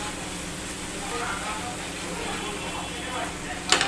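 Masala with ground cumin sizzling and frying in a pan for an ilish fish curry, a steady broad hiss under a softer clatter, with a sharper burst near the end.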